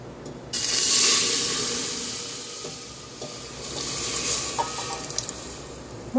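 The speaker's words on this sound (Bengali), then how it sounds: "ততক্ষণ আমি ডালটা ফোড়ন দিয়ে নিই" Mung dal being tempered with spices in a hot pan, a sudden loud sizzle and hiss bursting up then settling into a steady crackle with faint stirring, no talk.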